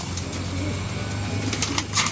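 Racing pigeons coo softly and repeatedly outdoors at a race arrival in San Fernando, Pampanga, over a steady low hum, with a few faint chirps and rustles near the end.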